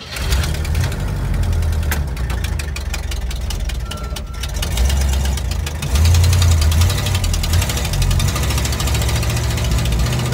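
A 1960 Cadillac hearse V8, running on old gasoline, idles roughly after starting, with a steady loud knocking, sputtering rumble close to the engine and slight swells in revs.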